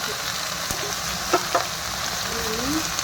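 Taro greens frying in a pan with a soft continuous sizzle, broken by a few sharp clicks of a spatula stirring and turning the leaves, close by.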